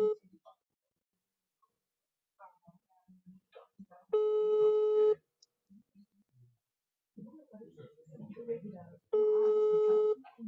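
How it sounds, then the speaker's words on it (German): A telephone on a call rings in two loud, steady bursts of electronic tone, each about a second long, with German speech between and around them. "Kannst du das Telefon abnehmen?"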